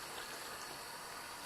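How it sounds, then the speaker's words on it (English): Water rushes and gurgles in a sink, one side draining while the other fills during the rinsing of dirty antique quilts, a soft, steady wash of flowing water heard alone. "draining it while I fill this side"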